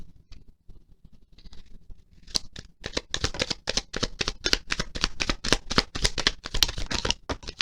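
A deck of tarot cards is shuffled by hand, starting with a few soft handling sounds before a fast run of crisp, rhythmic riffling bursts up close.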